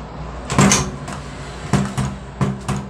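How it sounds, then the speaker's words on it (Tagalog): A repaired PVC door with a faulty lock is pushed shut and tried several times, giving a few hollow plastic knocks and clacks spaced apart, close and fairly loud. "Tapos subukan natin isara, subukan natin kung masara ba siya."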